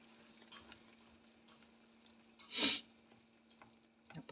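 Chicken mechado being stirred in a pot, a quiet simmering background with one brief louder scrape or slosh of the spoon midway and a few soft clinks near the end, close and otherwise calm.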